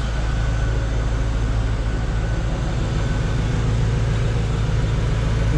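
Exhaust of a 1996 Chevrolet Corvette rumbles steadily at idle, heard from behind the car as a continuous low, even drone with no voices.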